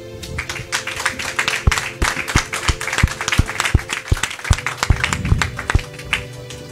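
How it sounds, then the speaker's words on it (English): A church congregation claps in praise of Jesus, steady rhythmic beats running through a loud, busy mix of music and crowd noise. "learn to clap for Jesus."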